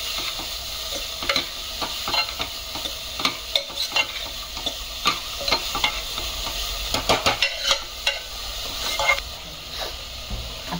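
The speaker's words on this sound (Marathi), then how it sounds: "मंद आचेवरती आपल्याला हे छान परतून घ्यायचं आहे।" Chopped vegetables and cabbage for a mixed vegetable soup sizzle gently in a pan over a low gas flame, with steady frying hiss and repeated scraping clicks of a spatula as they are stirred.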